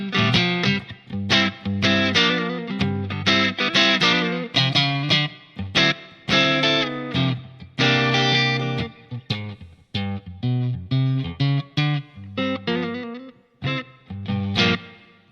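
An electric guitar through a Line 6 Pod HD500 on its Fender Deluxe Reverb preamp model plays choppy chords and short riffs, loud and lightly driven, with rhythmic stops between phrases.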